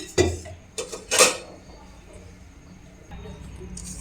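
A kadhai (wok) for tempering dal dhokli gets handled, giving a few sharp metallic clanks in the first second and a half, then a low, quiet kitchen hum.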